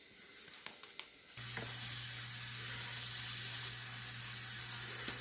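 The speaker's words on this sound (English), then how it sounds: "we'll take it over to the pan that I've got heated up, and we'll fry it" A 6-ounce beef hamburger patty dropped into a heated pan, a few light handling clicks followed by a sudden loud, steady sizzle with a low hum underneath that carries on to the end.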